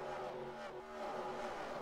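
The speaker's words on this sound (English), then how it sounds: "You can see a little bit of a flyby" Race cars in NASCAR Racing 2003 at Daytona roar past in a dense pack, a steady loud engine drone with a brief dip midway before the roar swells again, no voices.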